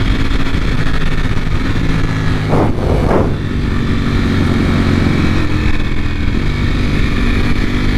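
A 2020 Ducati Panigale V4 R rides along a street, its engine droning steadily and loudly throughout with a brief rise in revs midway, no voices.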